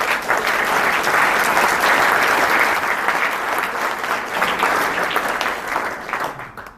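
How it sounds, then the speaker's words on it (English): A conference audience at a high-level paper industry session gives sustained applause, dense and loud throughout before easing slightly at the end, with no talking. "Let's give them a round of applause"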